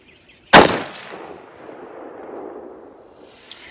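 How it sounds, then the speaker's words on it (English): An AR10 rifle chambered in .30-06 fires a single loud shot with range ammo at an outdoor bench, a sharp crack followed by a long rolling echo that fades away. "Let's fire off a shot."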